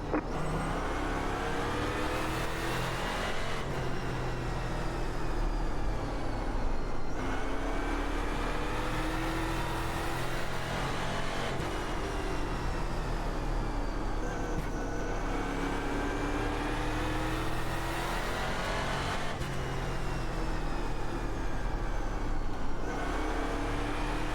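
Nascar Eurocar engines race around the Lanier oval in iRacing, droning loud and continuous, with the engine pitch rising and falling in repeated sweeps as the cars lap; no talking.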